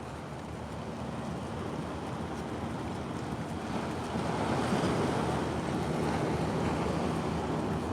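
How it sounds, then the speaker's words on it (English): Steady surf breaking and washing along the shore at Swamis Beach, a continuous broad roar that swells louder midway, with some wind buffeting the microphone. "now you're at the beach"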